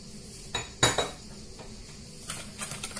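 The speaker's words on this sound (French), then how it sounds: "Je vais mélanger les œufs avec le sucre." Eggs and sugar are mixed in a bowl for a coffee chocolate cake, a few close, sharp clinks of a utensil against the bowl followed by lighter, quick tapping, with no talking.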